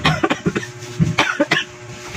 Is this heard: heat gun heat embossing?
no